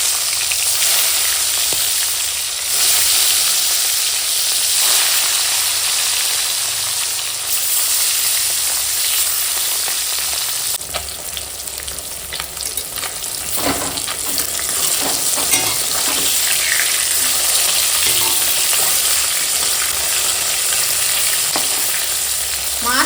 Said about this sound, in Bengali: তেল গরম হয়ে গেছে মাছ ভেজে নেব